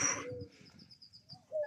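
Turtle doves coo softly a few times, with faint chirps from other birds around them, in a quiet outdoor setting.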